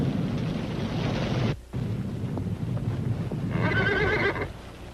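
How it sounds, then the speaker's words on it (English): A horse whinnies loudly and close by in a 1945 film scene, a long shrill neigh over outdoor wind and hoof noise, breaking off briefly before a second rising whinny. "Shut up, Horsey."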